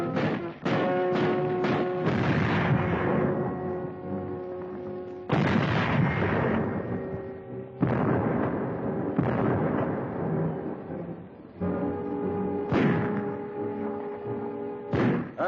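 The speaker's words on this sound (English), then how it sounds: "The Nazis direct their fire across the harbor." Heavy World War II artillery bombardment across the harbor at Gdynia, Poland, in 1939: continuous loud, dense rumbling booms with repeated sharp onsets, layered under sustained droning film-soundtrack tones.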